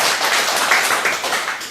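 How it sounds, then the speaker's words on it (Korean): Dense, continuous clapping from an audience gathered at a school camp event, a broad steady wash of many hands at fairly close range with no pauses. "박수 한번 칩시다"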